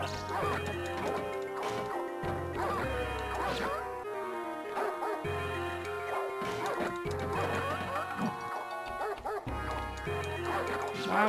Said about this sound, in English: Wow, how many dogs?